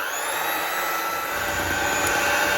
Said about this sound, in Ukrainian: Ну і ще маю міксер під рукою, тому змішаю міксером.